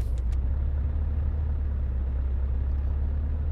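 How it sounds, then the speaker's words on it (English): Steady low engine drone of a 360-horsepower truck labouring under load in a truck driving simulator game, a continuous heavy rumble with no speech over it. "Come on, big engine. Come on. 360 horsepower."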